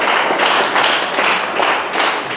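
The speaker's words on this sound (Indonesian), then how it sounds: "Tepuk tangan untuk kelompok Philip." Classmates applaud a student group in a school lesson, a steady wash of many hands clapping throughout, fairly loud and continuous, with no talk over it.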